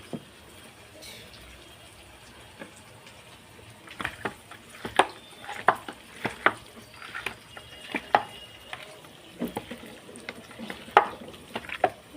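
Onions frying in oil in a pan are stirred with a utensil, giving irregular, fairly sharp clinks and scrapes against the pan over a low, steady sizzle.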